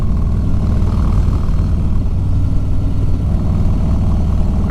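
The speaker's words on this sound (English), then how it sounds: "listen to that engine braking and that sound right there" A Harley-Davidson Low Rider S decelerating on twisty roads, its V-twin engine braking with a deep, rumbling, steady burble heard close and alone.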